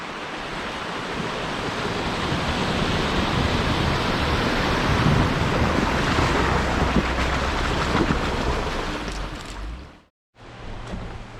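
High, fast river water rushes past close by along a trail, a loud steady broadband roar throughout that cuts out briefly near the end before resuming.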